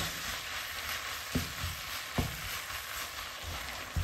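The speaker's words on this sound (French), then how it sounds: "je suis en train de mélanger la seconde partie" Kottu parotta mixture with chicken being stirred in a hot pan, a steady sizzle under a few sharp scrapes of the utensil against the metal, close and moderately loud.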